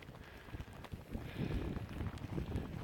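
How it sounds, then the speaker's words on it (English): Wind gusts over a wet hiking trail in Killarney Provincial Park, a low, rumbling buffeting that builds and stays strong toward the end. "whoa, it's windy too"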